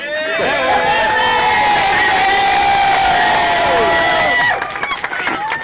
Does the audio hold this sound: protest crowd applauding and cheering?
yes